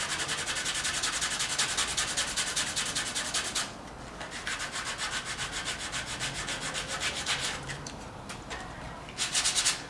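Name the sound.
sanding glued sculpture with sandpaper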